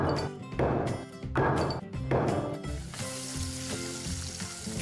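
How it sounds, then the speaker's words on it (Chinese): A few sharp, loud whacks ring out, then soft-shelled turtle meat sizzles in a hot wok, settling into a steady, dense frying hiss. "将甲鱼肉下入锅中煸香"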